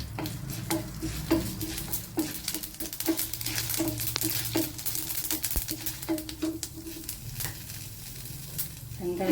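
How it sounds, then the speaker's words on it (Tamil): Mustard seeds and urad dal sizzle and crackle steadily in hot oil for an okra poriyal, with scattered sharp pops and a spoon stirring and scraping the pan throughout, close and continuous. "இப்போ கடுகு உளுந்து சேர்த்துக்கிடுவோம்."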